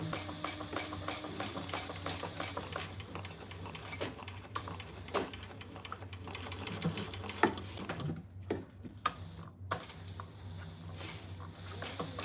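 Sewing machine stitching, a steady whirring mechanical hum with rapid needle patter running continuously, close and fairly quiet, with a few brief pauses near the end.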